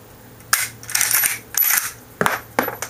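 Winchester M1894 lever-action rifle worked vigorously, giving a quick series of sharp metallic clacks and rattles, about five distinct bursts close by with short gaps between them.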